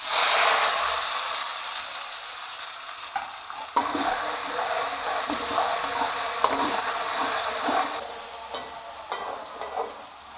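Onions, tomatoes and potatoes fry in a wok with a little salt. A bright, close sizzle sounds under repeated scraping stir strokes and occasional sharp clicks of the spatula against the metal, gradually quieting toward the end.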